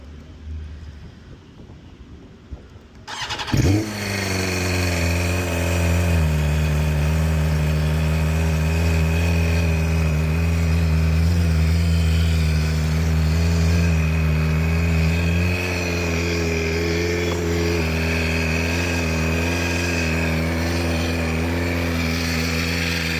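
A BMW M1000RR motorcycle fires up after a few seconds of quiet, its engine catching with a sharp rev and then settling into a loud, steady, close-up idle that runs uninterrupted to the end.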